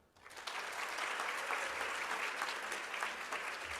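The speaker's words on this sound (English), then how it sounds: "let's give a big round of applause to Yolanda" An audience at a training session breaks into applause, swelling quickly from near silence into steady, dense clapping that carries on evenly and fairly close.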